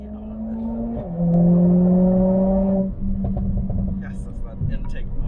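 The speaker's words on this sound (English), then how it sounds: "Yes, that's that intake noise." Mercedes-AMG A45 S hot hatch accelerating hard, its engine and intake note climbing steadily in pitch, dropping sharply at a gear change, then rumbling and building again.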